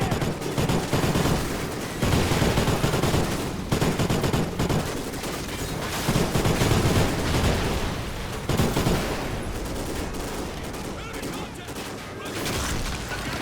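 Gunfire from the Call of Duty: Ghosts mission Legends Never Die: near-constant rattling bursts of automatic fire and heavy booms keep up a loud, dense barrage throughout.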